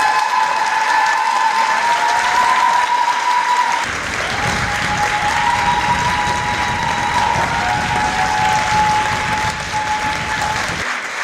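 Audience applause at the French National Assembly: loud, dense, continuous clapping from a large crowd that fills the whole stretch, with faint ringing tones running through it.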